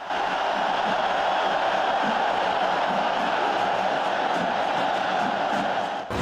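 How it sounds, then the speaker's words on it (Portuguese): A stadium crowd at the Mangueirão in a Paysandu versus Atlético Goianiense football match cheers and roars steadily while fans do the wave, a dense continuous swell that stays loud throughout, with no voice standing out above it. "a torcida já fazia ola"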